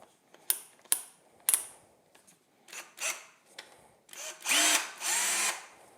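A Ryobi R18PD3 18V ONE+ cordless percussion drill with a 2 amp hour battery, set to straight drilling, gives several short bursts of whirring. Each burst spins up and stops, and the last ones run longer and louder.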